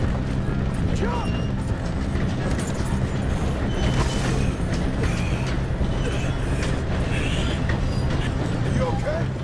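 Steam train clattering along rails in Red Dead Redemption 2, a dense continuous rumble with metallic clanks and squeals, heard under excited shouting voices throughout.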